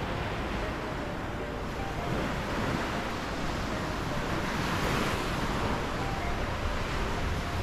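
Ocean waves wash ashore just feet from a beach bungalow on Koh Rong island, Cambodia, a steady, close, rushing surf blended with wind noise and no talking.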